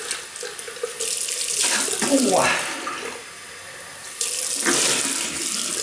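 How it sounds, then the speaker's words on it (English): A tap runs cold water into a bathroom sink during a wet shave with a Muhle R41 razor, a close hissing splash in two bursts with a brief lull between, and a person murmurs once. "Rinse that off. I will use a bit of cold water again."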